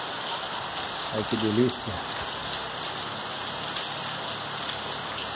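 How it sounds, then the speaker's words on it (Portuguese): Rain falling steadily outdoors on a January day, a continuous soft hiss of drops on surfaces throughout, with a brief burst of a voice speaking over it early on. "Primeira chuva desse ano."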